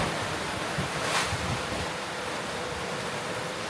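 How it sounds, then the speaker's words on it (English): Rough ocean waves surge and wash steadily against a sailboat at sea between Darwin and Indonesia, a loud continuous rushing roar mixed with wind buffeting the microphone. "I don't think we've seen waves this bad in a while."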